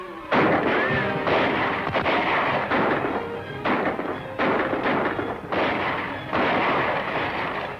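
Volleys of gunshots from a 1941 western shootout crack in repeated loud bursts with brief pauses between, close and echoing.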